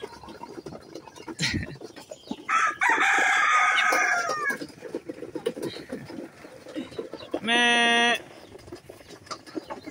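Chickens cluck and a rooster crows loudly nearby, with short bursts of clucking amid background farmyard noise.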